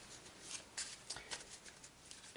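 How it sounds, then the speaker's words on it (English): A deck of playing cards being shuffled, a quiet rapid riffle of soft flicks and clicks over about two seconds with no talking. "Shuffle these cards"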